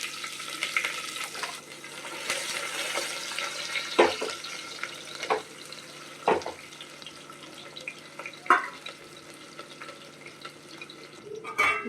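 Onions fry in hot oil inside a pressure cooker, a soft, continuous sizzle broken by several sharp clinks and scrapes of stirring, close and fairly quiet.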